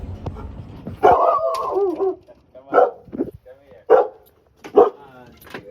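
A big chocolate Labrador barks several times in deep, full-voiced woofs spaced about a second apart, with a whimper at the start.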